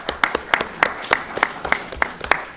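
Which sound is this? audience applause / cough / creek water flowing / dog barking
audience applause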